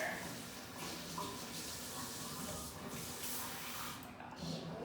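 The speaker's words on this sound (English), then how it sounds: "This faucet goes really, really fast" Water gushes fast from an indoor faucet in a steady, fairly soft rush with some spray and splash, running without a break.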